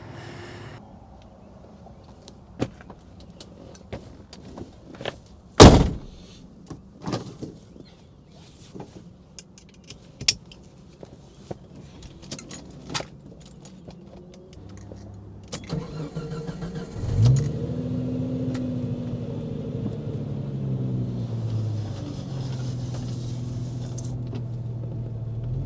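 A two-door Jeep Cherokee XJ with 218k miles: a door thunks shut, keys jingle, the engine cranks and catches, then settles into a steady idle and pulls away, the engine hum rising as it drives.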